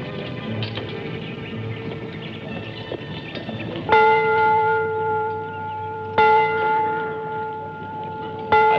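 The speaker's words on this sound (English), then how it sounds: "Go ring the bell, young man." A church bell rings out, struck twice with loud, sustained harmonic tones that hang and decay over a steady low hum and dim background sound, with no voices.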